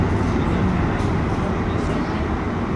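A Montreal Metro train runs between stations at night, giving a loud, constant rumble and roar from inside the car.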